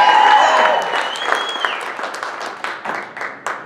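Comedy club audience at The Laugh Factory in Reno applauds a comedian, steady clapping and cheers near and loud, gradually thinning out, with a voice speaking over it.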